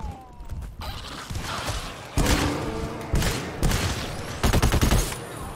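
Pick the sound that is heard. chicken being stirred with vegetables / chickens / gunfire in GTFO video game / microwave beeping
gunfire in GTFO video game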